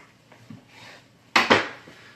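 A knife slices through a pizza pot pie and strikes the bowl or plate beneath, giving a few faint scrapes and then two sharp, close clacks in quick succession.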